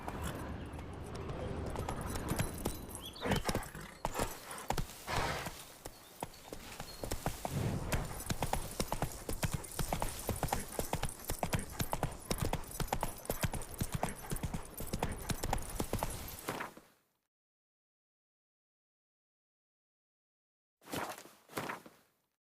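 Roach, the horse in The Witcher 3, clip-clops along in a steady, close rhythm of hoofbeats that runs for most of the stretch before stopping, with a short final burst after silence.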